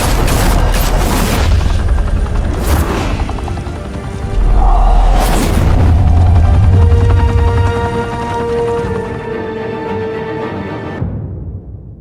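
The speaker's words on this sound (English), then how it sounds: "Open fire!" Heavy gunfire and booms in a Batman video game set in Gotham: loud bursts early on, then a sustained rumbling roar of fire and engine noise with ringing tones that fades out at the end.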